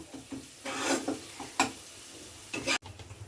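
Dry-ground spice paste with cinnamon and cloves frying in a pan for paneer masala, giving a soft, steady sizzle broken by a few scraping stirs, close and fairly quiet with no talking.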